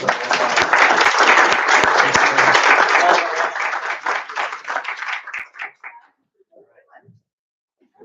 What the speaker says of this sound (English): Let's do one more big round of applause.